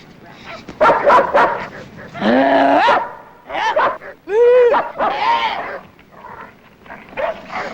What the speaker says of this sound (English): see these dogs?